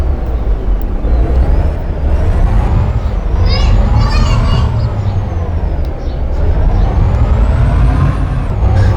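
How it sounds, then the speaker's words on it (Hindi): Truck driving into a large factory yard and parking, a loud continuous low engine rumble with a rising and falling whine and a hiss like an air brake midway, people talking over it. "तो हमने ट्रक को उधर पार्क कर दिया है"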